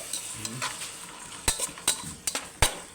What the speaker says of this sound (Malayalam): സവാളപ്പം അങ്ങനെ വാട്ടിക്കൊണ്ടിരിക്കുന്നു